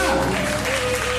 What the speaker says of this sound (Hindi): नीतू मैम के सम्मान में जोरदार ताली होनी चाहिए